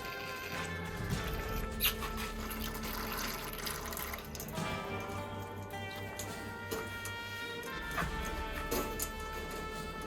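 Steady rushing water flushes continuously through the pipes of a rabbit hutch's nipple drinking system, with a few faint clicks and knocks over the stream.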